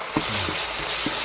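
Ginger garlic paste frying with browned onions for biryani, a steady hiss of sizzling oil with a few soft scrapes of stirring, close and continuous, no voices.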